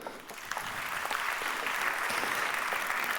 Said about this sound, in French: Par ici, on peut les applaudir.